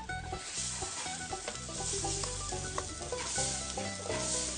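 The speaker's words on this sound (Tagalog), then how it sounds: "hayaan muna nating maging translucent yung kulay ng ating mga ginisa, yung ating onion at celery" White onion and celery sautéing in a pan for a corn chowder, with a steady close sizzle and repeated scraping stirs in a loose rhythm throughout.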